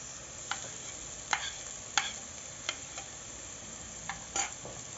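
Ginger and garlic frying with golden-browned onions in a pan: a soft, steady sizzle with several sharp spoon scrapes and clinks against the pan at irregular intervals, close by.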